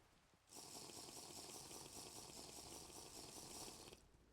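Steady rain falling in the Minecraft video game, a dense even hiss that starts suddenly, runs unbroken for several seconds, then cuts off; faint and alone with no talking.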